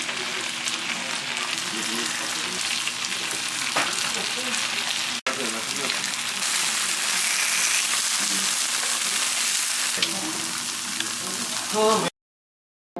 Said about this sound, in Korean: 무쇠불판에 향긋하고 고소한 들기름을 넉넉히 둘러준 후 두부를 올려 굽기 시작을 합니다